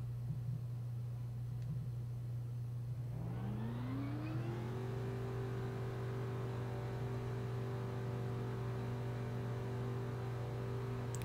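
Race car engine in the NASCAR 06 video game during qualifying, a steady hum that rises smoothly in pitch as the car accelerates, then holds a constant high whine over a continuous low drone.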